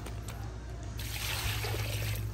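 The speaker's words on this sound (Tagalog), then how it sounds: "Lagyan mo na ng tubig kaya." Water poured into a cooking pot for sinigang being cooked with solar heat outdoors, a quiet trickle swelling into a fuller, splashing pour partway through, close to the microphone and heard alone.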